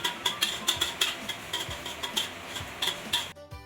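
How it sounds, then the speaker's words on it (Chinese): Garlic and red shallots frying in a little oil in a wok, with rhythmic metallic scraping and stirring strokes over a soft sizzle, close and clear. "我们在锅里加入少许的油，然后把蒜米红葱倒下去爆香"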